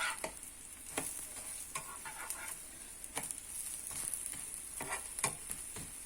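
An egg fries in a hot pan during buchujeon (chive pancake) cooking, giving a steady close sizzle with crackling pops and a few soft utensil clicks throughout.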